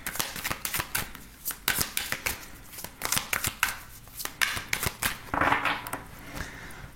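Tarot cards being shuffled and riffled close up, a long run of sharp, quick slaps and flutters in uneven bursts, with no talking.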